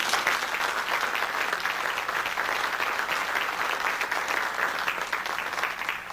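Audience applause at a 1999 international UFO congress in Capilla del Monte, Argentina: a full, continuous burst of clapping from a hall crowd, steady and loud for about six seconds with no talking.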